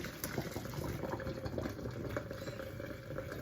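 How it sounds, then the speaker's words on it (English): Cooked pappardelle pasta water draining and splashing in a steady, continuous liquid rush at close range, with no talk. "I believe our pasta is cooked, so it's time to drain it"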